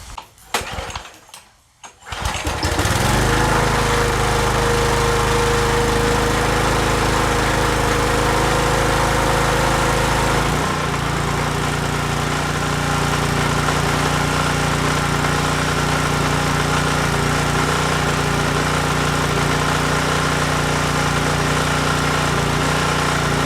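A small petrol engine on a Karcher pressure washer sputters and catches, then runs loud and steady up close, its tone shifting partway through before settling into a continuous drone.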